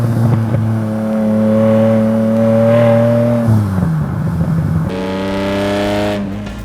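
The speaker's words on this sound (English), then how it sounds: "a mid-mounted V12 engine delivering upwards of 500 horsepower." Lamborghini Diablo with a mid-mounted V12 engine revving hard, a strong harmonic roar that climbs and holds, drops sharply, then surges again before fading, close and loud with no talking.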